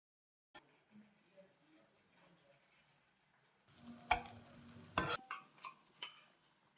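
Three eggs drop into hot oil in a pan already frying with salt and turmeric, bringing a sudden loud sizzle and clatter after quieter cooking noise; no talking.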